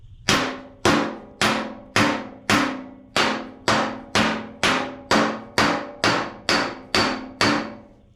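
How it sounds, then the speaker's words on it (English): Hammer striking a metal body panel held against a dolly, about fourteen sharp ringing clangs in a steady even rhythm, close and loud with an anvil-like metallic ring. "It sounds like I'm hitting an anvil."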